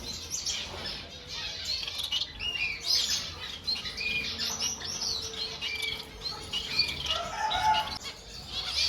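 Many zebra finches in a pet bird shop, a busy close chorus of high chirps and tweets with wing flutters throughout, no talking.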